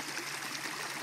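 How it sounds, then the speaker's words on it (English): Lasca Creek flows steadily in the Kootenay hills, a continuous broadband rush of water, close and even throughout. "The power comes from a stream or creek, Lasca Creek"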